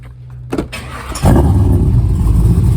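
An LQ4 V8 in a Firebird Trans Am is cranked and catches, a brief starter whir and stumble giving way to a loud, steady idle rumble close by, with no voices.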